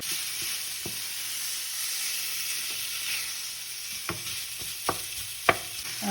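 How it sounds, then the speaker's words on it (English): Breakfast sausage meat, squeezed out of its casings, browns in a pan with a steady, close sizzle, broken by a few sharp scrapes and taps of a utensil stirring it. "brown that sausage meat until no pink remains"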